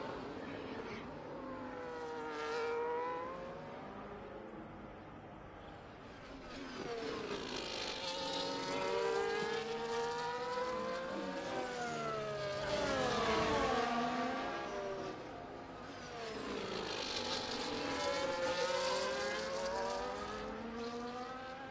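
Race cars on a hot lap at Brazil in a sim racing game, heard on board as a buzzing engine note that sweeps up and down through gears and corners, steady and moderately loud throughout.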